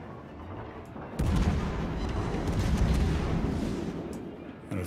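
Heavy naval gun salvos in World of Warships boom in one after another after a quiet start, a loud, rumbling barrage that continues for several seconds with no talking.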